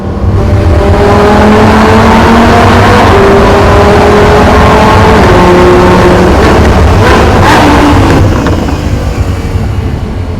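A 2016 Lamborghini Huracan LP 610-4 with its V10 revving hard inside a road tunnel, loud and close with rising and falling engine tones, reverberant roar and brief bursts of crackle near the end.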